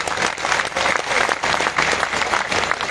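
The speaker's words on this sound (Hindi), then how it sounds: "अगर ताली बजाना खुल के एक बार बजा लीजिए सभी।" Sustained, dense applause from a large audience at a Shrimad Bhagavat Katha religious discourse celebrating Krishna's birth, loud and continuous throughout with no speech over it.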